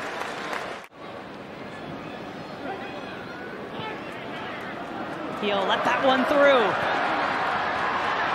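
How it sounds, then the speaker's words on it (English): Stadium crowd at a New England Revolution versus New York Red Bulls soccer match, a broad steady roar that swells louder toward the end, heard beneath close commentary. "Crowd sensing something brewing now."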